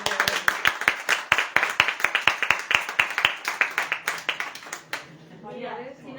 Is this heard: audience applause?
yes